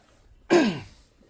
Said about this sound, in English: sorry again for the coughing